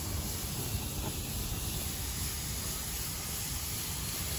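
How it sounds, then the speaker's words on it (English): Constant hissing sizzle of burgers cooking on a hot grill, a steady broadband crackle with no voices. "put it down on the grill and roll it away from you like that. And you can hear them sizzle."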